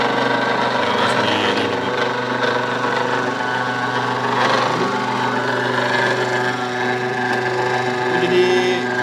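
Noodle cutting machine running steadily in a small home kitchen making flour-and-egg noodles, a loud continuous motor hum with a mechanical whirring drone and faint rattles, no pauses.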